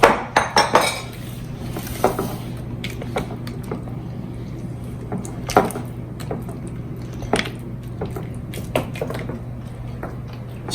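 Flourless black bean brownie batter beaten in a bowl, a utensil clinking and knocking against the bowl in a run of sharp hits at first, then steadier softer scraping and tapping over a constant low background hum.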